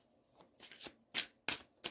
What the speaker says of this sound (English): I'm going to shuffle 3 more times and then